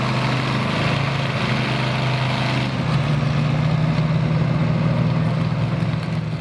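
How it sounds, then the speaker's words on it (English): A Ford pulling tractor with tunnel ram carburetion roars at a truck and tractor pull, a loud sustained engine drone whose pitch rises midway and holds steady. "The brand new Ford power tractor running tunnel ram air inducted"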